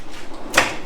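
A tool drawer in a workshop slides open in one short, fairly close scrape-and-rattle burst, alone with no talk.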